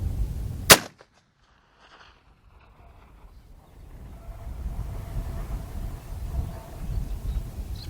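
Sharps rifle fired at a target 1650 yards away, a single sharp loud crack at the start that cuts off abruptly, followed by quiet and then low outdoor rumble and background noise, no speech.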